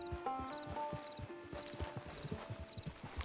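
Horse hooves clip-clop at a steady walking rhythm in the Red Dead Online video game, close and distinct, with faint tonal game music and ambience underneath and no talking.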